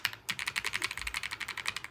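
Rapid, even keystrokes on an S99 mechanical keyboard clatter close to the mic, a steady stream of crisp clicks typed one-handed with no talking.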